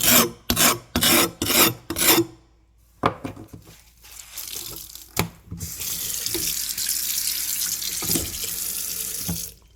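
A tool edge is honed on a sharpening stone with a quick run of close, rhythmic rasping strokes, followed by scattered scrapes and then a steady hiss.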